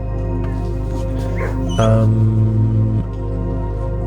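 Dogs bark and whine in the video game Blue Prince, loudest in the middle of the clip, over a steady tonal game-music backdrop.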